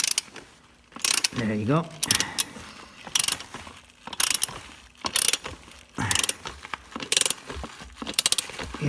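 A ratchet wrench clicks in quick bursts while tightening an exhaust fitting on a Kawasaki Vulcan S motorcycle during a Delkevic exhaust install. The bursts come at a steady rhythm close to the mic, and a person speaks briefly.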